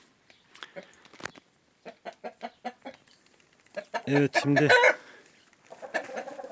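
Chickens and a black rooster cluck in short bursts, with a louder, drawn-out squawk midway; someone speaks briefly over them.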